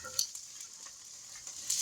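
Ground beef sizzles and fries in hot grease in a pan, a steady soft hiss with a few faint pops and stirring scrapes, fairly quiet with no talk.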